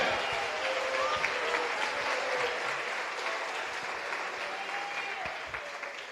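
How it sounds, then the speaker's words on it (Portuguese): A congregation applauds during a Christian evening worship service, sustained dense clapping from many hands throughout, loud and even, fading slightly toward the end. "Aplaude a Jesus de Nazaré."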